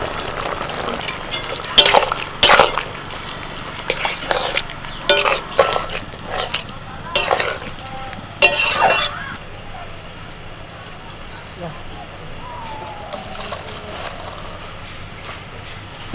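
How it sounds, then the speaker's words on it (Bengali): Poppy seed paste stirred into boiled stalks and potatoes in a pan for a Bengali village dish: a sizzling simmer broken by several bursts of scraping and clinking from a spatula on the pan, then a steady quieter sizzle. "ডাঁটা আলু সব সিদ্ধ হয়ে গেছে, এবার পোস্ত বাটা দিয়ে দিচ্ছি।"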